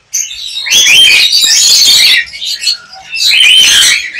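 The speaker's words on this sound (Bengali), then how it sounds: "এখানে সানকোনোর পাখি আছে" Sun conure parrots at the Mirpur bird market in Bangladesh let out loud, shrill, rasping shrieks in two close bursts separated by a brief quieter gap, with no voices over them.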